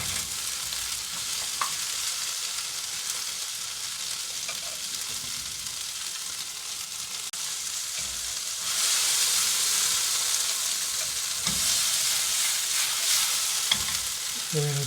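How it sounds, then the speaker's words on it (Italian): Pumpkin caponata browns in a pan for two minutes, giving a steady close sizzle and frying crackle that swells louder near the end, with scattered stirring clatters and no talk. "Lasciamo 2 minuti esatti a rosolare."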